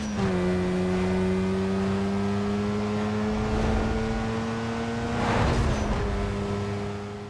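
A Mazda RX-7 in Need for Speed Most Wanted holds a steady, loud engine drone, broken by a couple of brief gear-change dips and bursts of noise before trailing off at the end.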